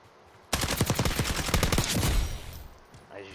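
Rapid automatic gunfire from the video game Call of Duty Warzone cracks out in a loud, close burst of about two seconds, then cuts off into quieter game ambience.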